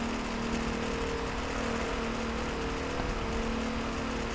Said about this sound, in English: I can hear kind of a rattling in my ear